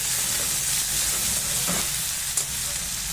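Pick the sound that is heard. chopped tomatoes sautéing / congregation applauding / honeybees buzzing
chopped tomatoes sautéing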